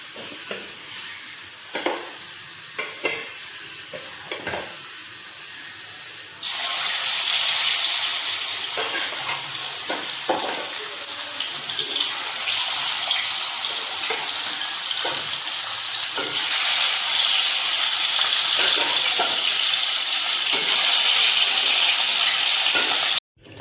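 Fish curry simmering and sizzling in a pan, with intermittent stirring scrapes and clinks at first, then a steady loud bubbling hiss filling the rest, no talking.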